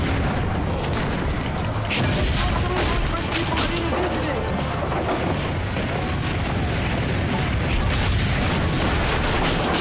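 Dense, continuous cannon booms and explosions from the Assassin's Creed: Brotherhood game roll loudly with no break, crashing blasts overlapping throughout, with a voice mixed in.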